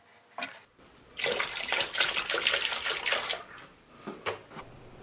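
Parts of a Stanley 239 dado plane, including the main casting and fence, lowered into an Evapo-Rust bath: faint splashing and pouring water in several short bursts, with one longer sloshing stretch in the middle, no talk.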